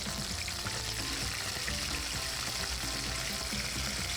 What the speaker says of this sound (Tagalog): Pagkatapos ay ipiprito na natin kagad yung isda.